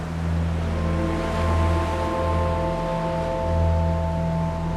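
Ocean waves wash over the sands of the Gaza coast in a continuous loud surf roar, swelling gently with low steady tones running underneath and no voices.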